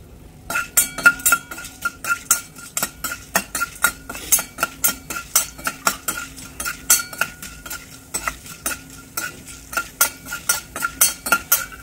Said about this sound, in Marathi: आणि काळी मिरी तळून घेणार आहोत